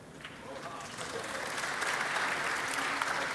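An audience claps steadily, the applause swelling slightly and holding for a few seconds.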